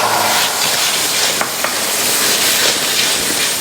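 Milk poured into suji halwa cooking with sugar in a pan on a low flame, giving a dense, steady sizzle and hiss with faint stirring scrapes, close and continuous with no talk.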